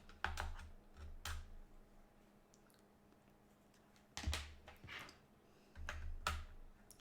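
A computer keyboard being cleaned gives short bursts of close, quiet key clacks and clicks, separated by near-silent pauses.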